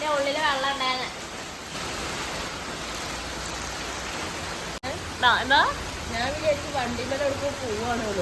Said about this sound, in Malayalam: പുറത്തേക്ക് മഴയാണേ